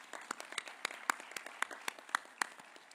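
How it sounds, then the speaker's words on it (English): Sparse, faint clapping from a small audience at a safety summit plenary session, a few hands patting irregularly for about three seconds with no voices. "How about another round of applause for Ranjit and the Civic Eye team for that video?"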